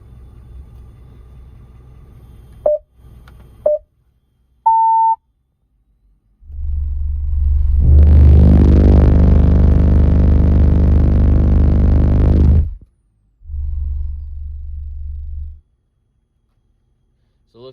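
Four 15-inch subwoofers pound out a 25 hertz bass tone as one massive, sustained low rumble lasting several seconds, then a shorter second burst, after a few brief beeps in a quiet car interior.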